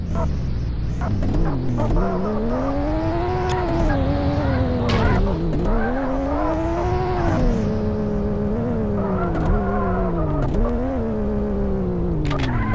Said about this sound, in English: Get in the limo parked in the Western car park.